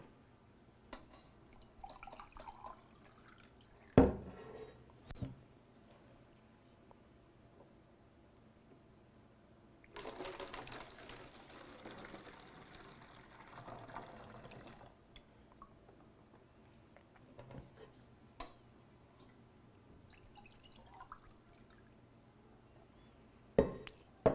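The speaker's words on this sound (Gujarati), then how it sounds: "એક કપ પાણી સમાયું હવે બીજો કપ પાણી રેડું છું" Water poured from a cup into a bottle during a classroom measuring activity: a soft, faint pour lasting a few seconds in an otherwise quiet room, with a few light clinks and knocks around it.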